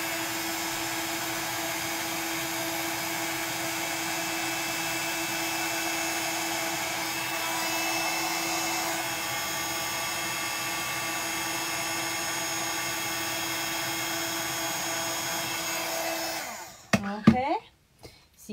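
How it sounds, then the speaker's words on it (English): Heat gun blowing on embossing powder: a steady, loud whirring fan hum with a strong sustained tone holds for most of the clip, then cuts off sharply into a few brief knocks and handling clicks. "I'm just going to hold the heat gun still, and then as soon as that powder melts and changes, I'm just going to move my heat gun off the image"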